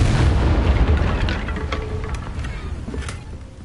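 A Confringo blasting spell explodes in Hogwarts Legacy with a deep booming blast up front, followed by scattered crackling pops that fade over a few seconds.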